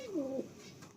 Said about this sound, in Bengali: আয়াস ভাইয়ের লফটে একটা লাল সিরা পায়রা দেখুন